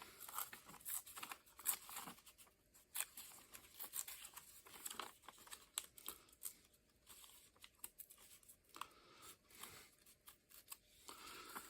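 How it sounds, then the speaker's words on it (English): A paper map being torn by hand for a mixed-media assemblage, heard as a series of quiet, crinkly rips and rustles in irregular bursts with short pauses between them, close and soft throughout. "So maybe I just tear it right here and then mend that tear."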